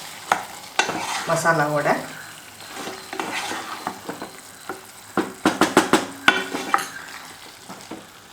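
Brinjal and half-boiled potato are stirred with masala in a hot pan, giving a close sizzle under repeated scraping and clanking of a metal spoon against the pan, with a brief spoken word.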